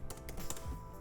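Quick typing on a computer keyboard while mocking up a website gives a short run of soft, close key clicks, alone and fairly quiet.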